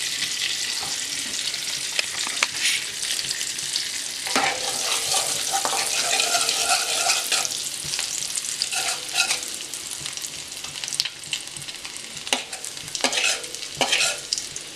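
Garlic fries in a pan for a creamy prawn pasta, with a loud, continuous sizzle and repeated scraping and stirring strokes; no one speaks.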